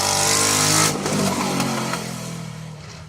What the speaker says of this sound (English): that is what a Citroen Saxo VTS sounds like without an exhaust